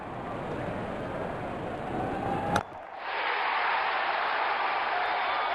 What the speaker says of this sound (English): Crowd going mad here.